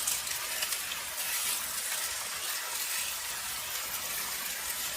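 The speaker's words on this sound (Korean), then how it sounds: "보시면 이렇게 노릇노릇하게 두부가 구워지고 있고요" Tofu browning in a preheated stainless steel frying pan over medium heat, giving a steady, fairly faint broadband sizzle and hiss that runs unbroken throughout with no talk.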